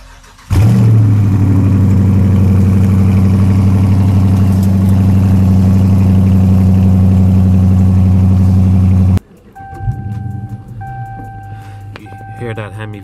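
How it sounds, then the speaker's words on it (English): A Dodge Charger R/T with a Hemi V8 cranks and fires, settling into a loud, deep, steady idle rumble that cuts off abruptly, followed by quieter mechanical clicks and chimes. "Hear that Hemi V8 start up."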